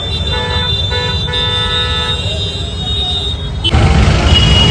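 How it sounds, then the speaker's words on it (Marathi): Heavy road traffic in an Indian city, with several car horns honking in overlapping, sustained blasts over a steady engine rumble, loud and close, and a louder surge of traffic noise near the end. "ट्रॅफिक कसली बेकार ट्रॅफिक लागले ना, जायला रस्ताच नाही काही."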